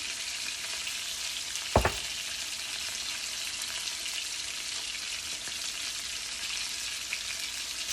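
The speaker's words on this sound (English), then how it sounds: "we're gonna sear them, so you're gonna hear a lot of loudness" T-bone steaks sear in a hot pan with a steady, dense sizzle that holds for the whole stretch, broken once by a brief sharp clatter near the start.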